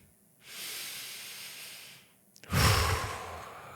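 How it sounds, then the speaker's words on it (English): A person takes a deep breath, first a long airy inhale through the mouth and then a louder, rushing exhale, close to the microphone with no speech. "take a deep breath"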